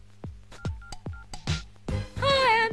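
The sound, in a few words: cell phone keypad dialing tones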